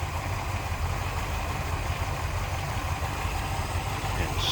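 A 1963 Chevrolet Corvette convertible engine idles steadily and smoothly, a constant low rumble close by with no talk over it.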